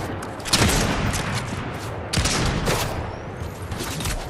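Rapid bursts of video-game gunfire from a Fortnite battle royale match, with loud broadband cracks at about 0.5 and 2.1 seconds and sustained shooting and faint echoes in between, with no talk over it.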